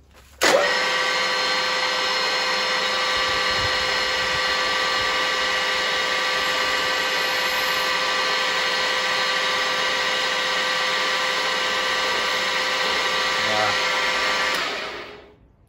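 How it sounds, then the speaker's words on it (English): A power drill whines loudly and continuously for about fourteen seconds while drilling on a Holden Grey Motor engine, starting abruptly and winding down at the end. "I'm gonna have to hang this drill bit out a bit longer and restart."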